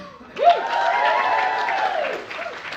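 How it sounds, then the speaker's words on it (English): An audience at a comedy night in a pub venue, Amersham Arms in New Cross, claps and lets out a rising, wavering whoop over the applause, which swells suddenly and then holds fairly steady. "clap for this dress."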